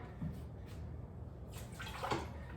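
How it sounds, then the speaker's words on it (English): Water pouring from a cup into a cooking pot of seasoned chicken in a home kitchen, a brief splashing pour rising near the end of a short, quiet stretch with no talk. "Throwing in a cup of water."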